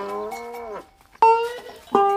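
A dairy cow on a farm lets out a long, loud, close moo, followed after a short pause by two more abrupt lowing calls.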